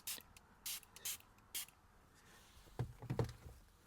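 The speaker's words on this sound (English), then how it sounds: "And now clean the cluster with the spray and mist it up here." Cleaning spray misted onto the instrument cluster of a Mk7.5 Volkswagen Golf R, four short close hissing bursts in quick succession, followed by quieter rustling and wiping sounds inside the car.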